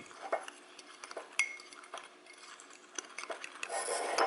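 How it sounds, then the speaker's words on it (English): Dry brownie ingredients mixed with a fork in a bowl: quiet, repeated light scraping and tapping strokes in an irregular rhythm, close and soft, no talking. "I'm just going to mix it all up here with a fork."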